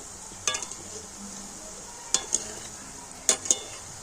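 Dough balls fry in hot oil with a soft continuous sizzle, broken by a few sharp metallic clinks and scrapes of a utensil stirring in the pot.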